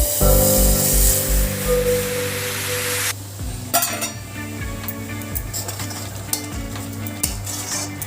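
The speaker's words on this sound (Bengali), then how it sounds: "এবার আমি জল দিয়ে দেবো" Water poured into a pan of chana masala sets off a loud, rushing hiss for about three seconds, which then settles into a quieter bubbling simmer with intermittent clinks of a spoon against the pot.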